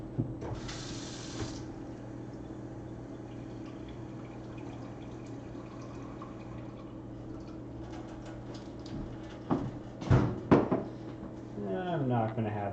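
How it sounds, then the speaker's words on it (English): Water runs steadily from a kitchen tap into a cup, a continuous soft hiss lasting several seconds, followed by a few clinks and handling noises and a faint voice near the end. "So I'm gonna get a cup of water."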